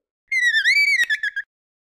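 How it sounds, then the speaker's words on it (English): A dolphin gives a run of high, bending whistles with rising and falling sweeps, broken by a sharp click partway, clear and close. "Dolphin."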